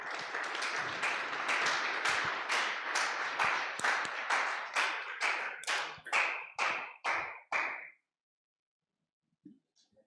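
A church congregation claps together, dense applause that breaks into a series of slower, rhythmic unison claps before stopping abruptly into quiet.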